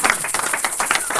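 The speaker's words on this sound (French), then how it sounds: "Acclamez très fort." A church congregation applauds loudly at a prophet's sermon, a dense, steady wash of many hands clapping close by, with faint voices mixed in, for about a second.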